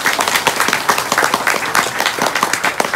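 A crowd at a Balinese religious talk breaks into a brisk, even burst of hand clapping, close and lively without any voices.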